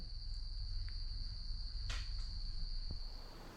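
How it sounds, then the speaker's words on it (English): A steady, high-pitched cricket trill runs continuously through the clip in a garage, faint and constant, with a brief rustle or click partway through. "Somewhere in the garage there's crickets."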